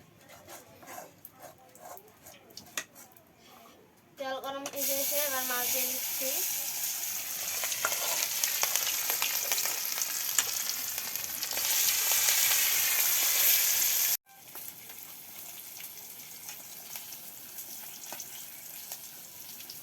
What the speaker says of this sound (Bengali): মাছগুলো আগে ভাজি করবো তার জন্য তেল দিয়ে দিলাম